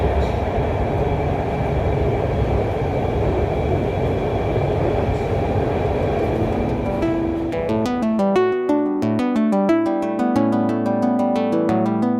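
Steady rumble of a passenger train in motion heard from inside a carriage, a continuous broadband roar that gives way partway through to a bright tonal chime or melody sounding over the running noise.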